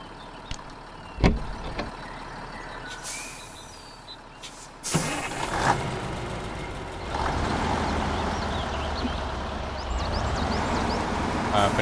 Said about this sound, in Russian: Я думаю, двумя грузовиками мы точно выедем.